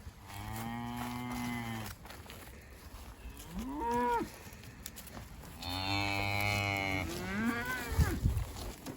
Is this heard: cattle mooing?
yes